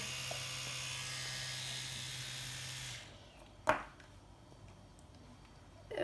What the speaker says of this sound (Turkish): Diş fırçamız böyle bir diş fırçası.